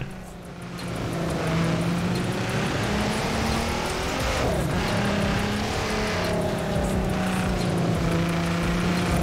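Ford Raptor truck driving slowly off-road among trees in Forza Horizon 4, a steady low engine drone with gentle rises in pitch continuing throughout without talk.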